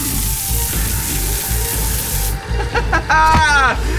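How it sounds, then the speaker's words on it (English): A continuous hissing spray from a sleep spray runs for about two seconds, then cuts off abruptly, followed by short clattering bumps and a voice. "Looks like the sleep spray worked!"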